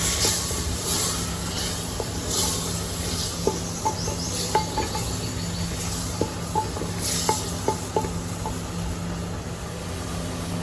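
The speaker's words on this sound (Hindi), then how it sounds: "अब इसमें हमने चॉप किए हुए टमाटर डाल देने और फिर हमें इसको भूनना है" Chopped tomatoes hiss and sizzle as they fry in a handi of bitter gourd, with a steady close crackle and scattered light clicks from stirring.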